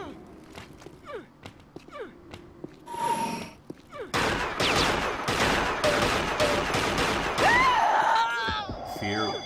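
Rapid gunfire and footsteps ring out in a fast-paced arena deathmatch game, scattered shots at first, then dense repeated firing, with excited commentators talking over it.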